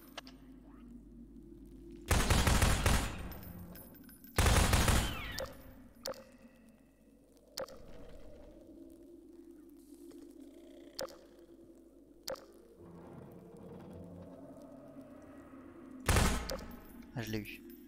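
Gunfire from a Half-Life 2 firefight: three loud, sharp bursts with several fainter isolated shots scattered between them, over low background game ambience.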